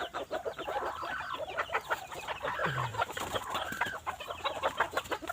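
Bantam chickens, short-legged Thai ornamental birds, cluck and chatter in a steady close cluster of soft repeated calls, with one lower vocalization midway and no talking.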